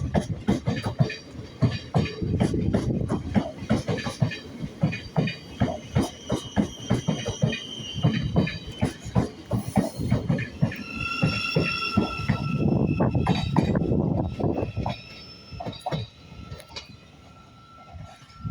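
Thameslink Class 700 unit 700 018 runs through Ely station on a service to London King's Cross. Its loud, steady rumble and rhythmic wheel clatter continue throughout, with a squealing tone rising near the end and no voices.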